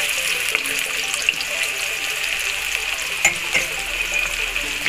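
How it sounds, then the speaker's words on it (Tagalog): Onions sautéing in a hot pan, a dense steady sizzle close up, with a few light stirring clicks and no talking. "igigisa natin ang sibuyas"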